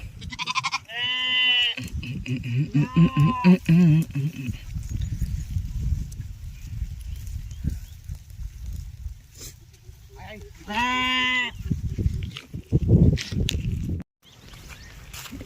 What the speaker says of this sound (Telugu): గొర్రెలు అయితే నీళ్ళకు జాలడిస్తాయి ఒర్రుడే ఒరుతాయి నీళ్ళకు